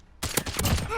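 EBR-14 marksman rifle firing in Call of Duty: Modern Warfare: a sudden sharp shot followed by a few quick loud cracks with echoing tails, close and forceful.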